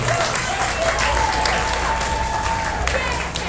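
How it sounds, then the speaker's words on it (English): Audience applause at a county fair swine show, steady clapping from the crowd in a large open barn or arena, with a faint background tone and some voices mixed under the clapping. "If you would, give him a nice round of applause as he goes down."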